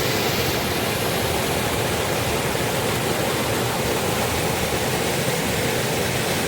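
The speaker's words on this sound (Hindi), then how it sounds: "कितना फ्लो के साथ पानी चल रहा है।" Fast-flowing muddy river swollen by monsoon rain in hill country, a loud, dense, unbroken rush of water close by, with no voices over it.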